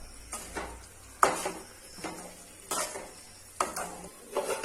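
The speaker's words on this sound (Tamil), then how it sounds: "இந்த ஐர மீன் குஞ்சு நான் 1/4 கிலோ எடுத்து தான் சுத்தம் பண்ணியிருக்கேன். இப்போ இதை அப்படியே போட்டுடலாம்." Small Ayira fish stirred through masala frying gently on a low flame make a soft sizzle, broken by rhythmic scraping strokes of a spoon against the pan at intervals of about a second.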